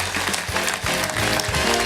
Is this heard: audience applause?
yes